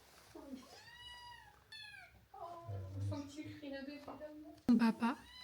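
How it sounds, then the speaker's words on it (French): A kitten meows several times in a home, its high harmonic cries rising and falling close by, with people talking and a voice around it. "Ils ont leur bébé chat."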